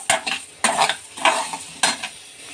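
Coriander and fenugreek seeds roast in a dry pan for sambar powder, stirred in four distinct scraping strokes with a spoon, each a short rattly burst close up.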